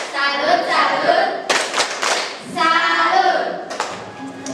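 A group of people performs the Tepuk Salut clap in an Indonesian classroom, rhythmic bursts of claps separated by chanting voices, loud and close, in repeated patterned phrases.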